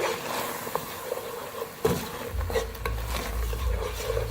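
Spices are being mixed into a mutton kofta curry, making a close scraping and clinking of a utensil against the pot with a few sharp knocks. A low hum comes in toward the end. Nobody speaks.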